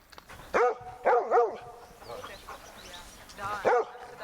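A rescue dog barks several times close by in short sharp bursts, a pair of barks, then a few more after a pause, with quieter vocal noises in between.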